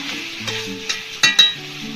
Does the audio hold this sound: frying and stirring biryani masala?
yes